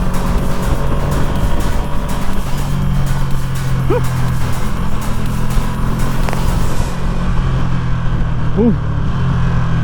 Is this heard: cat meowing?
no